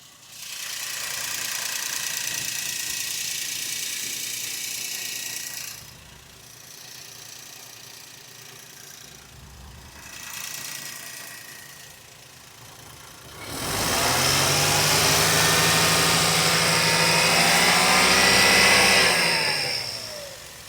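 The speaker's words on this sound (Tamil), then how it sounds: "இப்போ இந்த வண்டியோட இன்ஜின் சவுண்ட் எப்படி இருக்குன்றதை நம்ம மைக்கை பக்கத்தில் வச்சு காட்டுறோம்" A 2009 Maruti Suzuki A-Star petrol engine idles steadily, recorded up close, then revs louder with a rising, strained note toward the end before easing off.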